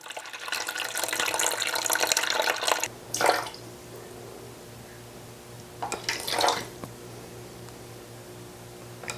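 Warm filtered water, about 400 grams, is poured into a container for challah dough made with fresh milled wheat: a loud steady stream for a few seconds, then two short splashing pours after a quiet gap.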